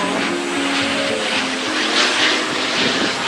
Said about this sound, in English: Do you hear that plane over there?